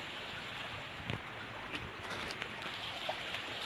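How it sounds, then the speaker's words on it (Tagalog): Creek water flowing beside a path, a steady broadband rush with a few faint ticks and splashes, continuous and moderately near, with no talking. "ito ay tabing sapa"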